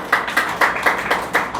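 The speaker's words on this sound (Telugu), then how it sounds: "చప్పట్లు కొట్టాలి." A church congregation claps hands in a steady, brisk rhythm during a sermon, sharp repeated claps close by with no talking.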